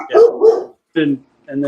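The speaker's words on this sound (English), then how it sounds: "Apologies for the dogs" Dogs barking nearby, two quick loud barks followed by two shorter yelps after brief pauses.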